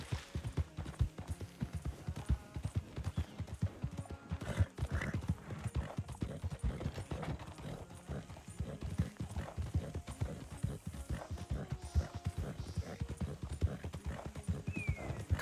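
Hooves of a horse in a Wild West role-play video game beat in a fast, continuous galloping clip-clop, with a brief whinny partway through, close and steady throughout.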